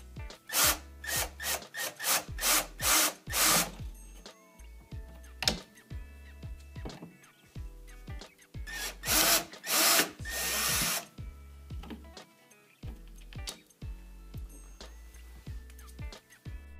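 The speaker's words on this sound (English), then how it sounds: "Unscrew the old thermostat mounting plate to remove it." A power drill unscrewing an old thermostat mounting plate, several short bursts of whirring spin separated by pauses, with a longer run near the middle, fairly close and alone.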